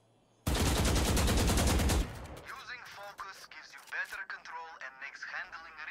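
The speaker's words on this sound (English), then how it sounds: "Keep firing. Central target with sustained fire." Sustained automatic gunfire in Valorant rattles out as one rapid, loud burst lasting about a second and a half, followed by someone talking over quieter game sounds.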